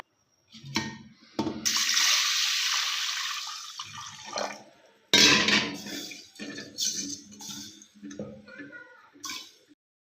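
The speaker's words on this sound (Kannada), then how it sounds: "ಈಗ ನೀರು ಹಾಕ್ಕೊಳ್ಳೋಣ." Water is poured into a pressure cooker holding washed green gram in a home kitchen: a steady, close rushing splash lasting several seconds, then a second shorter pour, with light clinks of the vessel and soft voice sounds around it.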